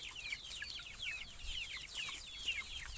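Young chicks peep busily alongside a rooster clucking nearby, a dense and continuous stream of high chirps with no talking.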